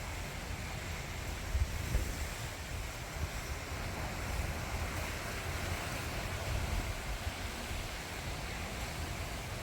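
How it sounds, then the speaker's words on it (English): Strong Hurricane Helene winds roar outdoors in a broad, constant rumbling rush, buffeting the microphone with slightly heavier gusts now and then. "I'm going to bring you outside in it so you can get an even better of the wind."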